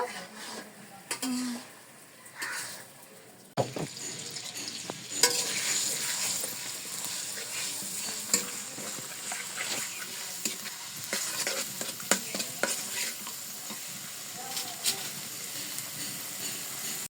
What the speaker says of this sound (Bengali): এখানে মশলাটা হচ্ছে কষিয়ে নিচ্ছে দেখতে পাচ্ছ মাটির চোলা রান্নাটা